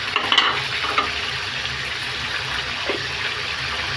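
Chicken pieces fry in hot oil in a pan as chopped onion and garlic go in, giving a loud continuous sizzle with a few sharp spatters and stirring scrapes near the start.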